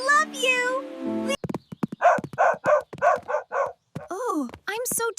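Cartoon dog Bandit barks in a quick series of short, close yelps. The barks come between bursts of animated character voices with a whiny, cat-like cry, all loud and near.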